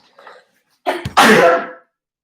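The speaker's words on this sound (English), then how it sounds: "sneezing on a live video" A single loud, explosive sneeze, preceded by a quick sharp intake of breath and a faint murmur, then silence.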